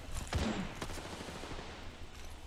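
Gunfire from weapons in the video game Apex Legends during a Shadow Royale match, a few loud shots near the start followed by scattered, fainter bursts over a steady game-ambience background.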